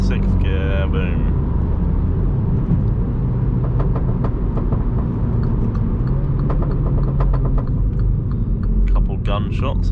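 A MINI JCW F56 hatchback on a night drive rumbles along from inside the cabin, with a cluster of sharp exhaust pops and crackles mid-way, while someone talks at the start and end.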